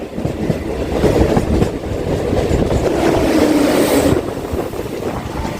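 A Ranaghat to Sealdah local train runs with a steady, loud rumble and a rolling clatter of wheels on track, heard from on board with no voices.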